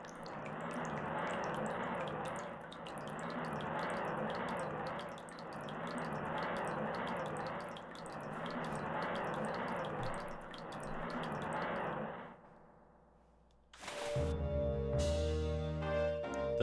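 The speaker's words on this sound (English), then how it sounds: "draining the pool" Water drains from a pool in Zelda: Ocarina of Time, a steady rushing, gurgling flow that pulses in slow waves for about twelve seconds, then dies away before a bright chiming game jingle takes over.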